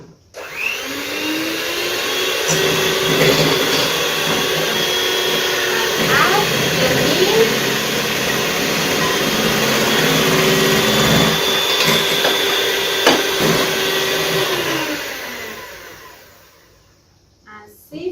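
An electric mixer whirs loudly and continuously, beating oil into light, elastic cream for an apple cake batter. The steady motor drone holds for about fifteen seconds, then spins down and stops, with brief speech over it.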